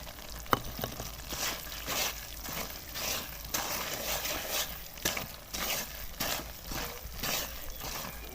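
Semolina cooking in ghee in a pan for homemade barfi, with chopped almonds added, gives a steady soft sizzle and frying hiss with occasional stirring scrapes, continuous and close.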